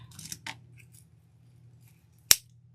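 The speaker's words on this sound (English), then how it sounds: "It's going to work out to be every other zip tie." A single sharp snip of scissors cutting through a plastic zip tie on a thin spring wreath frame, one crisp click near the end after some faint rustling.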